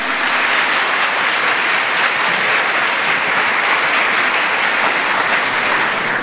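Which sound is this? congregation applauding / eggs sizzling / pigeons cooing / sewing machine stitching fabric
congregation applauding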